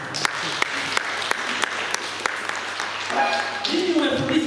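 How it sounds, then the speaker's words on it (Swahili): An audience at a public talk applauds with scattered, sharp claps at a steady pace, followed by a louder burst of crowd clapping and voices toward the end. "Ipigeni makofi jamani"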